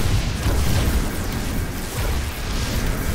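Dense rumbling explosions and bursts in a StarCraft 2 match as a Protoss photon cannon is destroyed by attacking Oracles, loud and continuous battle noise throughout.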